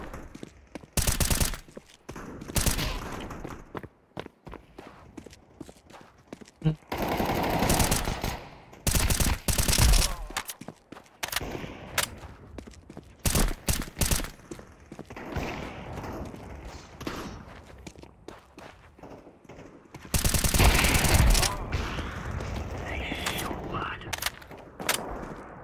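Gunfire in the Counter-Strike 2 video game comes in repeated sharp bursts of automatic fire and single shots, some loud and close, others fainter, separated by quieter stretches with occasional footsteps.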